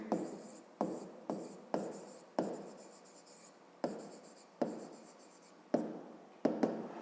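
A pen writes on paper in a quiet room, in a series of short scratchy strokes and longer scribbles broken by brief pauses, close and fairly soft.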